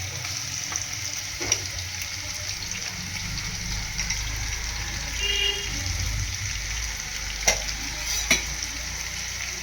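Onions fry with ginger garlic paste for a chicken curry, giving a loud continuous sizzle with occasional clicks and scrapes from stirring, close and without speech.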